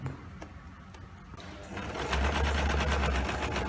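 A sewing machine stitches fabric scraps, starting after a quiet stretch with light handling clicks and then running at a steady fast whir that builds and holds loud to the end.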